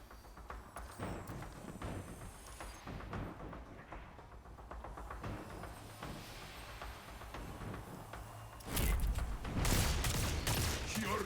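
Hand cannon gunfire in Destiny 2 during a multiplayer Trials match, with rapid shots cracking through continuous game noise, sparse early on and building into a loud, dense burst near the end.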